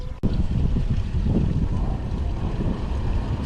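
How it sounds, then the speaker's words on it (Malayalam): A boat passes on open water during lure fishing off Kerala, heard as a steady, loud broadband wash of engine and water noise mixed with wind buffeting the microphone, lasting the whole stretch with no talk. "പക്ഷെ ആ ടൈമിൽ ബോട്ട് വന്നല്ലോടാ"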